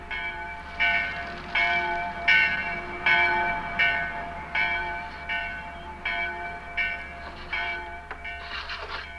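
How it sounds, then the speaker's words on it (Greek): A village church bell rings in a steady, repeated toll, each strike ringing out with long overtones over faint background hum, with no voices. "Η καμπάνα της εκκλησίας χτυπάει."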